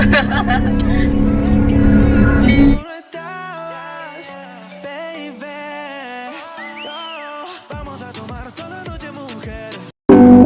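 A car drives along a road on a trip through Arunachal Pradesh, its loud broadband rumble filling the opening seconds before music takes over and the engine noise returns briefly at the end.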